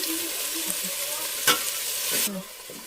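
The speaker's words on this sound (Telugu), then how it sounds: "వెజిటేబుల్స్ అయితే ఫ్రై అయినాయి కదా" Vegetables frying in a pan with coriander, mint and a pinch of turmeric added, giving a steady close hiss with spoon stirring taps and scrapes and a brief louder burst midway.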